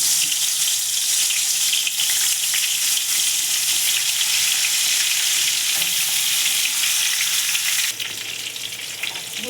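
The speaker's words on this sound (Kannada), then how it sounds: "ಆ ಕಾದಿರೋ ಬಾಣಲಿಗೆ ಈ ಬದನೆಕಾಯಿ ಏನು ನಾವು ರೆಡಿ ಮಾಡ್ಕೊಂಡಿರ್ತೀವಲ್ಲ ಮಸಾಲೆ ತುಂಬಿ, ಅದನ್ನು ಒಂದೊಂದೇ ಇಟ್ಕೋಬೇಕು." Masala-stuffed brinjals sizzle loudly in hot oil in a pan, a dense, continuous hiss that holds steady throughout before dropping slightly in level near the end.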